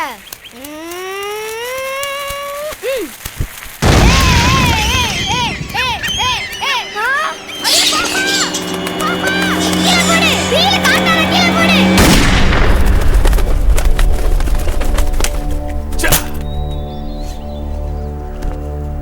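A gun fires in a Tamil village film scene, a sharp loud blast at about four seconds followed by a dense, booming rumble and siren-like tones that run on for the rest of the scene under music.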